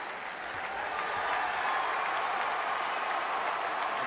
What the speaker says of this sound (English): A mock cheer here from the Friar faithful as the whistle goes their way